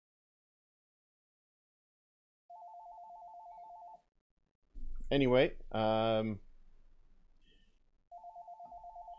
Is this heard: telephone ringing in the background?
yes